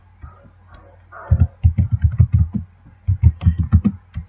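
Typing on a computer keyboard while writing a C programming exercise, with two bursts of quick, close key clicks in an uneven rhythm and a short pause between them.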